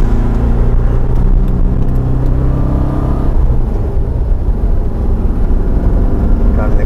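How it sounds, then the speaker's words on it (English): A Porsche 914 engine hums and rumbles steadily close by while accelerating, its low drone holding level throughout with no distinct rev climb. "Accelerate and watch the clutch action."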